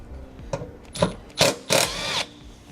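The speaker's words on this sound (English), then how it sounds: "These screws that hold the panel in place require a 3/8 socket." A 3/8 socket on a power tool backs out screws from the under panel of a 2017 Forest River Rockwood RV, giving four short whirring bursts that lengthen toward the end, close and fairly loud.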